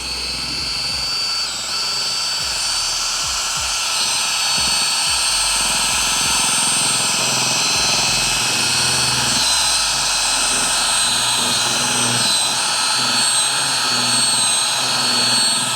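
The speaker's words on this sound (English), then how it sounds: "That drill is way more efficient at mixing it than your stick." A power drill mixing epoxy, whirring continuously at high speed for a long stretch, close and steady, with a faint low rumble underneath.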